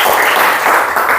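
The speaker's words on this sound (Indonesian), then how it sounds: "tepuk tangan dulu buat kita semua." High school students in a classroom clap together, a brief burst of close, loud applause.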